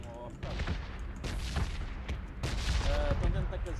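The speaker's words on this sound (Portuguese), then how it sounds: "Estou a levar tiro." Dense rapid gunfire from the battle royale video game PUBG, bursts of shots crackling continuously at moderate level, with voices talking faintly underneath.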